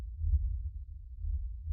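A low, thudding heartbeat sound effect plays during a Vampire: the Masquerade tabletop role-playing session, steady muffled beats pulsing close and alone with no talk over them.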